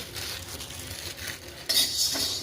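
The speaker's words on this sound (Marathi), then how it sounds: "आता आपण काळे मिरे टाकून घेऊ भाजण्यासाठी" Black peppercorns being dry-roasted are stirred in a pan, giving close, continuous scraping and light rattling with metal clinks, slightly louder near the end.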